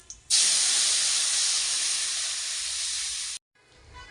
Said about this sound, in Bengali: এখন আমি ছেঁকে রাখা তেঁতুলের জল দিয়ে দিচ্ছি।